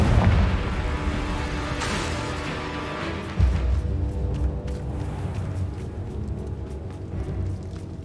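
A Confringo fire spell explodes in the Hogwarts Legacy video game, with a burst of booming blasts at the start and another sharp impact midway, followed by a rumbling, sustained roar.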